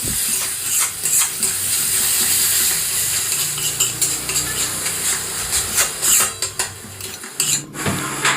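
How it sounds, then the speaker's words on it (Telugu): Tomatoes being stirred in a pan for poha upma, a soft steady sizzle close by with intermittent scraping and clinking of a spoon against the pan, with no talk. "తర్వాత దీంట్లోకి మనము టమోటాలు వేసుకోవాలి. ఇప్పుడు అన్నీ ఒకసారి కలిపెట్టుకోవాలి."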